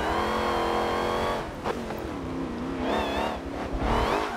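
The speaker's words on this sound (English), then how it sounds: "A mad supercharger whine." A 1000 hp Honda Odyssey racecar with a supercharged Hellcat-style engine revs hard, its loud harmonic roar rising and falling with a sustained supercharger whine over the engine note.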